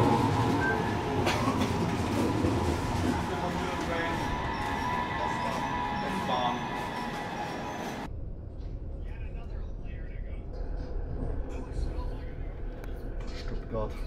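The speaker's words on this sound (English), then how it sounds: "You are taking the train and then the tram." A steady rumble rolls on through a German train ride toward Stuttgart as people talk nearby, and the background noise shifts and drops partway through.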